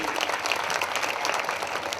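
A church congregation at a worship meeting breaks into loud, sustained applause, a dense steady patter of many hands filling the room.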